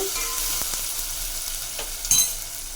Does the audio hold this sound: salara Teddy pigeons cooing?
no